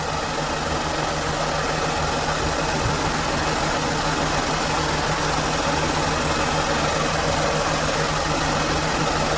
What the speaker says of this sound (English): The vehicle is still on, as you guys can see from the background.